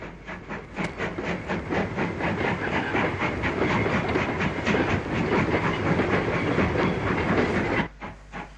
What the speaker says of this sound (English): A train of empty coal wagons arrives from the north.